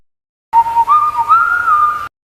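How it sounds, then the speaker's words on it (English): A single person whistles a short, wavering little tune, clear and close, starting after a moment of silence and stopping abruptly. "whistled a little tune"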